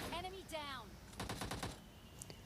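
Rapid automatic gunfire from PUBG Mobile in a solo-versus-squad match, a burst of close shots followed by a fast run of repeated rounds, with game sounds and chatter mixed in.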